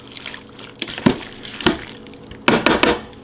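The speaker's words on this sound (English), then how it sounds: "I'm going to stir this up a little bit." A spoon stirs chicken fajita soup in a pot, giving a few wet scraping and sloshing strokes with short splashy bursts near the end, close and with no one talking.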